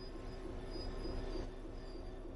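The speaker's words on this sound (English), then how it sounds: "Bring this train to a complete stop by holding the brake control in the apply state" A train slowing to a stop under brake, with the driver holding the brake control applied. A steady rumble and a sustained high wheel-squeal tone run continuously and loudly through the short stretch.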